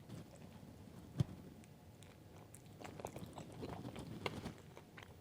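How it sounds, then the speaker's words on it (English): Close bites and chewing on an everything bagel deviled egg, with one sharp bite near the start followed by steady soft mastication and small crunchy clicks, no talking. "First, I'm going to try the everything bagel deviled egg."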